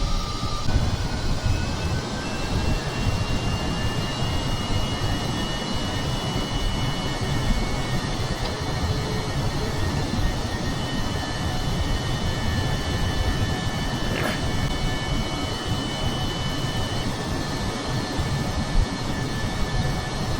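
A small aircraft in Kerbal Space Program roars down the runway for takeoff, a loud, steady engine drone with a rumbling low end that holds throughout without any voices.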